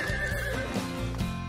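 A horse whinnies in a long, loud, wavering neigh that rises and falls across the whole moment, close and alone, with no voices over it.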